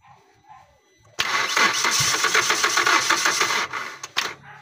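A 2019 Hyundai Accent with a weak battery cranking but failing to start, a loud, rapid whirring starter grind that runs for about two and a half seconds and then cuts off, followed by brief clicks.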